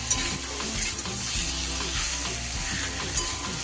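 Mashed potato being stirred in a frying pan over a very low gas flame, a steady broadband sizzle with rhythmic scraping and stirring strokes throughout, close and fairly loud.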